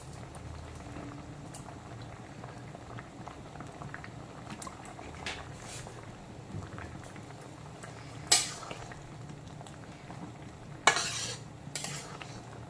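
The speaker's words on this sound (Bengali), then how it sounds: "এখন যেহেতু সব কিছু খুব ভালো মতো টকবক করে ফুটতে শুরু করেছে" A pumpkin, raw mango and fish roe chutney boiling in a pan, with thick steady bubbling and popping, soft stirring and a couple of brief louder clatters, close and fairly quiet.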